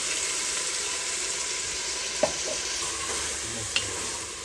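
Vegetables with coriander powder, turmeric and ground masala fry in a pan for village-style pulao, making an even, close sizzle broken by two light scrapes of a stirring spoon.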